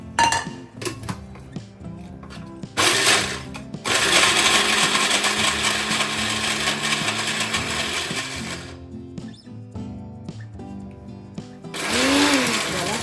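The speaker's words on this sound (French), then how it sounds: "je vais rajouter à mon mixeur et on y va" An electric blender grinds plantain and beef with spices in loud, whirring bursts, stopping briefly between runs and then resuming at full power, with short quieter gaps.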